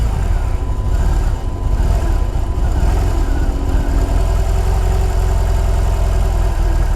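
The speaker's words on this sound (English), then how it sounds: "The exhaust on it, yeah, a bit subdued, but not bad." A motorcycle engine held steady at about 11,000 RPM with a subdued exhaust, giving a continuous loud mechanical drone without pauses or talking.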